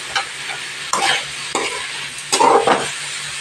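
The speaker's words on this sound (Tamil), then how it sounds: "இது எல்லாத்தையும் அப்படியே எண்ணெயில் நல்லா ஒரு 10 நிமிஷம் சிம்முலே வச்சு நம்ம வதக்கி விட்டுக்கலாம்" Dried anchovy and green chili sautéing in hot oil, with a steady sizzle and several scraping stirs of a spoon in the pan, no talking.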